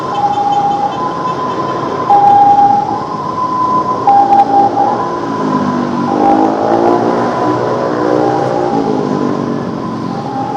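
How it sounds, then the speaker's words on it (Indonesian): An ambulance siren wails loudly, switching between rising and falling tones over steady traffic rumble on an evening ride between Jakarta and Bekasi, sounding fairly close as it passes. "Ada ambulan ya teman-teman,"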